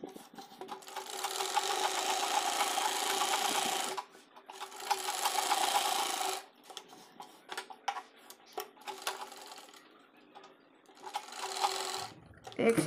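Sewing machine stitching a straight seam on a dhoti salwar, running in steady bursts of whirring with short pauses between runs, close and fairly loud, with a little speech in between.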